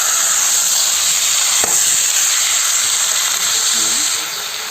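Broiler chicken meat sizzles and hisses steadily in a hot frying pan while being stirred, with a brief scrape of the utensil; the frying fades slightly at the end.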